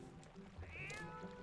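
A single short cat meow from Zelda: Twilight Princess HD rises and falls once, quiet and alone over soft game background sound.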